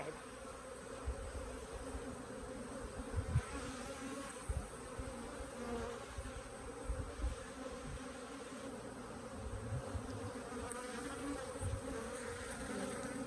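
Dense, steady hum of honey bees swarming around an open Cordovan hive during a split, the drone close and continuous for the whole stretch with small swells in loudness and no voices.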